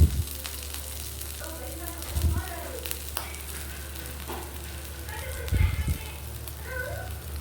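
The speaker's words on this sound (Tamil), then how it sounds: "தோசை ஊற்றியாச்சு." Dosa batter sizzling on a hot pan, a steady frying crackle with occasional brief clatters, while someone speaks over it in Tamil.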